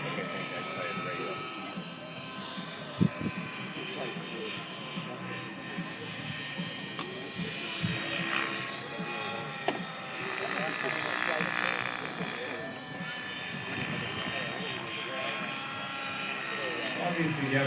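A model airplane engine drones steadily throughout, loudest around the middle, as a pilot flies aerobatic manoeuvres at an outdoor airshow; people talk over the continuous engine noise.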